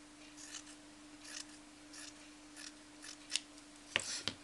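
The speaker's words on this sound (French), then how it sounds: "je vais juste couper les bords là pour couper le fil" Scissors snip loose threads off fabric edges while pincushion pieces are made, giving several quiet, brief cuts that grow sharper and closer toward the end, with no talking.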